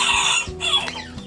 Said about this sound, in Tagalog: napakailap ng manok na labuyo